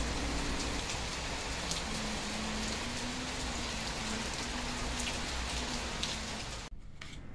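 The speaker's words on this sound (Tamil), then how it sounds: "செம்ம மழை, பயங்கரமாக மழை பெய்ய ஸ்டார்ட் ஆகிடுச்சு." Heavy rain pours down steadily and close by as a dense, even hiss of drops on surfaces, with a faint low tone beneath it. Near the end a soft shuffle breaks in.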